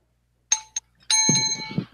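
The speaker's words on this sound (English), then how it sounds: "Sorry, I just wanted to ring the bell." A bicycle-style bell dings twice in quick succession and is then struck again with a long ringing tone, while voices murmur and laugh underneath.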